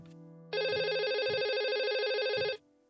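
A telephone rings loudly for about two seconds in a steady continuous electronic trill, with a few low thumps beneath it and no talking.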